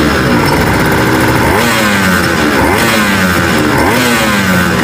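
A Honda NSR250R two-stroke motorcycle engine revs loud and close, its buzzing pitch sweeping up and down in repeated throttle blips.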